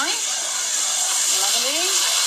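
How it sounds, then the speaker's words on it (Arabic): Boiling water is poured over meat and rice frying with spices for masala tikka, raising a loud, unbroken hiss and sizzle throughout, with a faint voice in the background. "ومجهزة ماي مغليانة راح أكبتها فوقهم"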